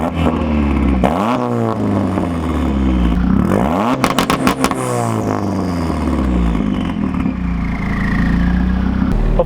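A high-power tuned, turbocharged Mazda Miata pulls hard from inside the car, engine revving up through the gears with shift breaks and a burst of rapid popping, loud and close throughout.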